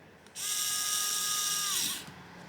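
A 68-in-1 electric screwdriver drives a screw with a steady, close motor whine lasting about a second and a half, which slows as the screw seats and then cuts off, with no talking.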